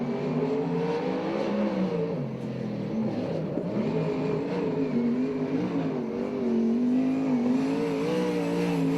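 A USAC/CRA sprint car runs a lap at Alger, WA, its engine droning loudly and continuously, the pitch swelling and dipping as it accelerates and lifts through the turns.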